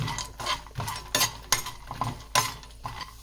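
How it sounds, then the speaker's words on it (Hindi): One cup of makhana (fox nuts) fried over a medium flame, heard as irregular dry clinking and scraping stirs in a pan, several sharp bursts standing out close by with no talking. "हम इसको मीडियम फ्लेम पे फ्राई करेंगे"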